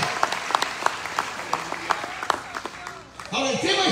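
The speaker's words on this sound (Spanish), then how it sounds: "Dele palmas al Señor." A church congregation at an evangelistic Spanish-language service claps along in steady rhythmic beats, moderately loud, then the clapping thins out and a voice starts speaking near the end.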